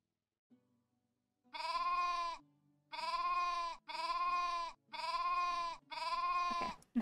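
Sheep bleat in the Viking-era stage of the video game Hidden Through Time: five clear, drawn-out bleats in a steady rhythm, with no talk.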